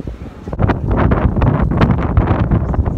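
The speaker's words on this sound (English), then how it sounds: "It is so windy." Strong wind buffeting a microphone outdoors, a loud, continuous low roar with gusty surges that swell and fade throughout, no talking over it.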